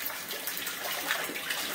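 Water sloshes and splashes steadily in a jacuzzi as a Great Dane plays in it, a close, continuous wash of bubbling and churning with no voices.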